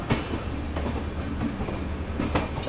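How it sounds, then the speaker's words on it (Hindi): Lucknow Mail passenger train 12230 rolls along the rails at night past Ghaziabad toward Hapur, a steady heard-from-inside rumble with faint rhythmic wheel clicks over the joints and no talk. "अभी ट्रेन अपनी गाज़ियाबाद से निकली है"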